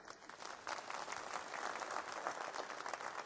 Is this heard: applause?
yes